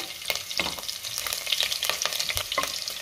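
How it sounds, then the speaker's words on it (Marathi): Cumin, whole spices and green chili crackle and sizzle in hot oil and ghee, a dense continuous frying hiss with light stirring scrapes, close and steady with no talking. "त्यातच आपल्याला खडे मसाले घालायचे, हिरवी मिरची, हे अर्धा मिनिट परतून घेऊया"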